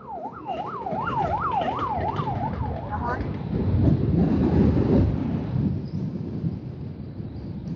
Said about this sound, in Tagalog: Ang hina na ang tawag nun, sirena niya.